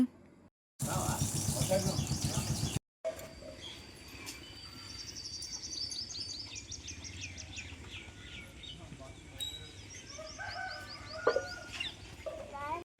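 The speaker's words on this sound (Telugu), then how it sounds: "మార్నింగ్ వీడియో తీస్తుంటే పిట్టల సౌండ్స్ ఇంకా మేము మాట్లాడినవన్నీ వినిపిస్తున్నాయి" Birds chirp and call on a summer morning in the countryside, with fowl-like clucks and bright repeated tweets scattered over a steady outdoor hum; a loud, dense burst of noise briefly covers the start.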